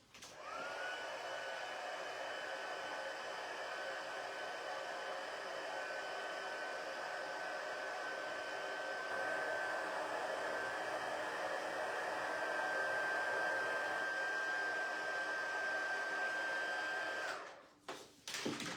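Hair dryer or heat tool drying powder on a handmade card, a steady loud whirring blow with a constant whine that runs for about seventeen seconds before switching off with a few clicks.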